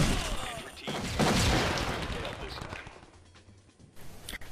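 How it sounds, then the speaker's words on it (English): Gunfire in the SWAT 4 video game comes as a dense burst of rapid shots and crashes that fades toward the end, with low voices in the background. "Be advised, the suspects are erratic and shooting."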